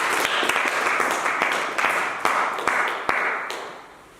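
A church congregation applauds in a broad, sustained wash of clapping that fills the room for several seconds, with a few louder individual claps standing out.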